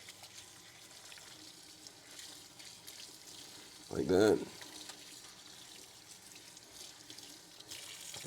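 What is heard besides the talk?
water running from a tap, rinsing a sponge at the sink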